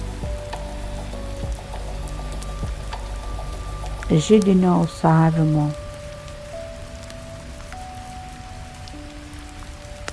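Steady rain falls outside a hotel room window, a soft continuous patter that runs through the whole stretch while a calm voice speaks briefly over it.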